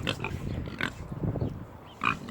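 A boar on a farm grunts and snorts in a few short, rough bursts close to the listener, with brief pauses between them.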